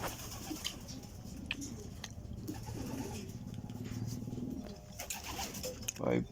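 Racing pigeons coo softly as they arrive home at the end of a race, low and fairly distant, with a steady background hum and a brief louder rustle near the end.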